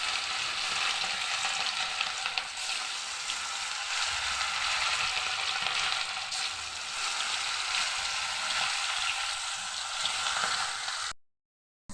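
Fish sizzling steadily in hot oil in a pan, a dense, continuous frying hiss held at even loudness for about eleven seconds before cutting off abruptly.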